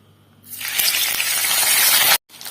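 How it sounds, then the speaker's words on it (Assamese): Chicken meat hits hot oil with a loud, steady sizzle that lasts about a second and a half, then cuts off abruptly. "মাংসটো মই 2 মিনিটৰ কাৰণে ভাজি ললোঁ।"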